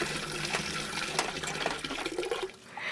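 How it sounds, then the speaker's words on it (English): An old, rusty hand pump gurgles and then squirts brownish water, giving a steady rushing, splashing flow that stays close and fairly loud before easing off near the end. "The pump gurgled and squeaked, and after a while began to squirt water."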